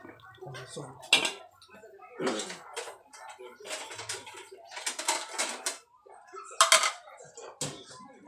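Spooning pork rib curry with greens into a bowl sets off repeated clinks and scrapes of ladle against pot and dish, sharp and close, mixed with someone talking.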